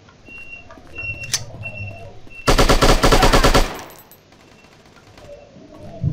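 Rapid machine-gun fire from the shooting video game Striker, one loud burst of evenly spaced shots lasting just over a second, set among quieter game ambience and faint whistling tones.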